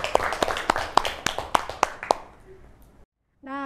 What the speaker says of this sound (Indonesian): Tepuk tangan untuk kelas ini.